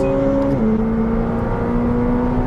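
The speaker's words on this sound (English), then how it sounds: "listen to how quickly we're going through these gears" A McLaren 765LT accelerates hard down a straight, its engine note loud and steady with a quick dip as it shifts up a gear, then climbing again under heavy wind and road roar.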